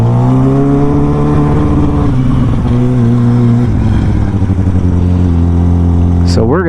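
A $90 stunt motorcycle engine hums and revs close by while riding, its tone rising and shifting steadily, with a brief sharp rise near the end.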